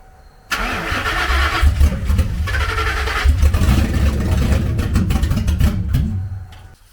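A car engine cranks and catches abruptly, runs with a rough, loud idle and a few revs for several seconds, then is shut off and dies away, heard up close with no talking.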